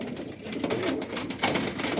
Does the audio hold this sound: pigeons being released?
yes